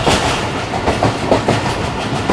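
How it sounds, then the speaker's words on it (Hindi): Karachi Express train wheels rolling on the track while approaching Dera Nawab Sahib railway station, a steady loud rumble with repeated rhythmic clickety-clack beats. "मज़ेदार ट्रैक साउंड के साथ अप्रोच बना रही है गाड़ी।"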